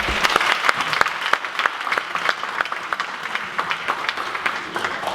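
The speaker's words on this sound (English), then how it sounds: "Shall we give them a round of applause?" An audience claps for volunteers who have come up in front of the room: a dense, close burst of hand claps that holds steady for several seconds, with a faint voice underneath.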